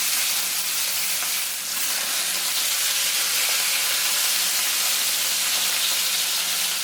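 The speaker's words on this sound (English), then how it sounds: "what you want to do is just sear each side so it gets a nice brown coating" Beef short ribs sear in hot oil in a frying pan, giving a loud, continuous sizzle and crackle with a steady hiss throughout and no talking.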